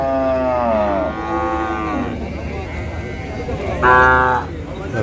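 Cows and calves mooing at a busy cattle market, with long loud bellowing moos near the start and again near the end over a crowded background murmur.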